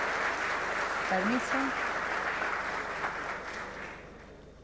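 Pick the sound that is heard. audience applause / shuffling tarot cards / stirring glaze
audience applause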